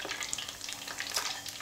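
Curly parsley deep-frying in hot oil for oyster fritters, a steady close crackling sizzle with small popping bursts throughout, no voices.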